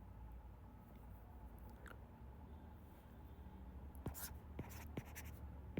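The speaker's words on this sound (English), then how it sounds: "So let us write the formula first" A formula being written by hand in a quiet room, with a faint, soft scratching of the pen and a few sharper strokes near the end.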